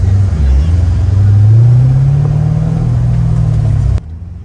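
A drift car engine drones loud and close during a tandem drift run at a drifting event, a steady low roar rising slightly then holding before cutting off abruptly near the end; voices can be made out faintly under the engine.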